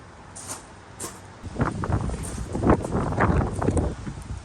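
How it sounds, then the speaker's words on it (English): Gusty wind buffets the microphone outdoors during a motorcycle rebuild, with low rumbling bursts that swell and fade, loud and close, with no talking. "Oh, it's windy."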